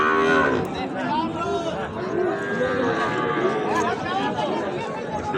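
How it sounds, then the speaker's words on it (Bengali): At the Ambari cattle market, a Sahiwal bull calf, about three to four months old, moos amid a busy crowd, its lowing calls rising over steady chatter and nearby voices. "আমরা দেখছি আমবাড়ি হাট থেকে খামার উপযোগী সাইওয়াল জাতের ষাঁড় বাছুর।"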